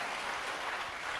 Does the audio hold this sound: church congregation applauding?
yes